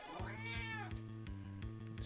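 A pet cat gives a drawn-out meow that slides up and falls away like a yawning cry, close and clear over a steady low background hum.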